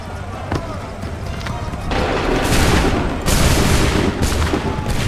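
Muskets fire in repeated volleys in Assassin's Creed III, with loud overlapping bursts of gunfire that come in waves over a constant battle rumble.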